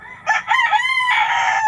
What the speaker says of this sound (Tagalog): Ayan na naman yung mga manok guys